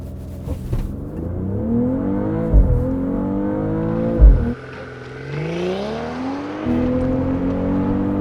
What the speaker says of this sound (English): Yeah, those are punchy hard upshifts. Solid launch.